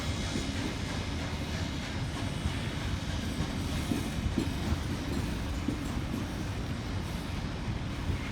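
A train rolls through Hurstville station with a continuous rumble and rhythmic clickety-clack of wheels over rail joints, steady and moderately near, with no talk.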